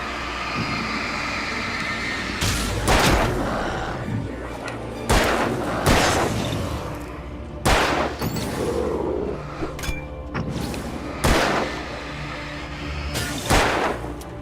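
Gunshots in the video game Alan Wake, a series of loud, sharp blasts spaced a second or two apart, each with a heavy booming tail over a steady background rumble.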